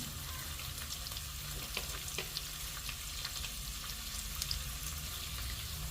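Finely chopped onion sautéing in oil in a pan over a medium flame, cooked for a vegetable dish of field beans. A continuous close, even sizzle fills the scene, with faint small clicks of stirring and no talking.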